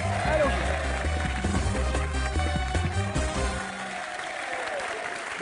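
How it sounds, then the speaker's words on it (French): Studio audience applause on the French TV game show Tout le monde veut prendre sa place on France 2: a dense, steady wash of clapping that fills the room, with talk and studio sound mixed in before it thins out near the end. "Benjamin, vous êtes très applaudi en tout cas."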